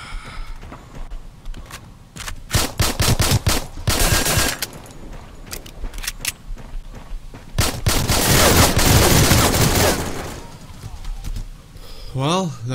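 Gunfire in the shooter video game AXYOS, bursts of sharp shots in uneven clusters with a long, loud volley near the end, while someone talks over the action.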